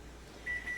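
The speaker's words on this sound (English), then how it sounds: "turn my timer off" A kitchen timer beeps briefly in a quiet kitchen while macarons bake, two short electronic tones near the end, clear over faint room noise.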